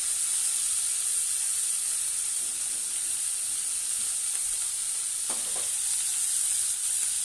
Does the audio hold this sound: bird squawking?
no